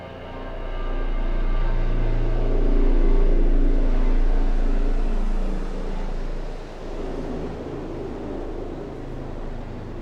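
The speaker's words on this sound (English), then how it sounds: "That's a helicopter." A helicopter in a video game, a loud steady rotor rumble that swells and stays present throughout, heavy in the low end with a washy noise on top, with no talk over it.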